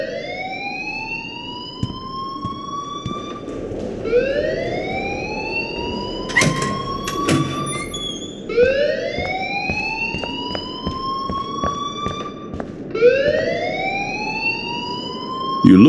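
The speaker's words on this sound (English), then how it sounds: "please turn off that alarm since that's your job" An alarm wails in the video game Life Is Strange, its rising electronic tone repeating in loud sweeping cycles with clanks and rattles underneath, and no voices.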